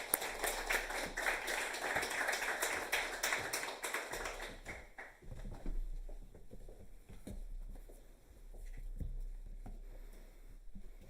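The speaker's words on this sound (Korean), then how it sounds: "박수로 모시겠습니다." A church congregation claps in welcome for the pastor at a Wednesday worship service, with dense applause for the first few seconds that thins into scattered claps and fades.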